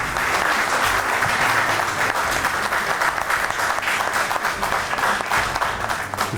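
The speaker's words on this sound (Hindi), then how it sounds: "आपकी ढेर सारी तालियों।" An audience at an Eid special mushaira claps in sustained, dense applause that stays loud and even throughout.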